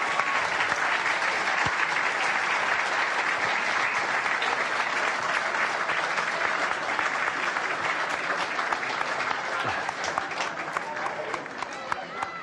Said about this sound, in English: He's the first one to applaud his teammate.